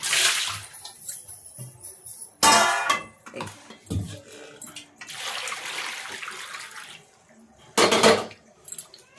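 Fish pieces being washed in water in a pot, with splashing bursts, clanks of the vessel and trickling between, moderately close, as someone talks over parts of it.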